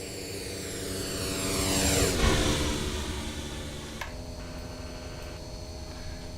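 An MD-80 airliner's engines roar steadily during a fast night climb, a constant loud drone heard from inside the cabin with a shifting whine partway through.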